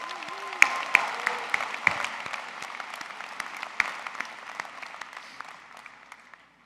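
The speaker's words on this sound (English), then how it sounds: "Let's give him a big round of applause." An audience at the Hofstra University Maurice A. Deane School of Law commencement claps in a warm burst of applause that gradually thins and fades out, with a few sharper individual claps standing out.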